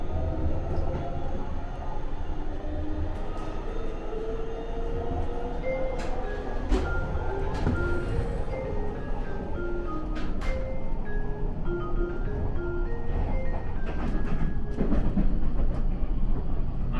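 A JR Shikoku 8000 series electric limited express tilting train runs on the Shiokaze service, its steady rumble overlaid with rising and falling electric motor whines and occasional rail clicks.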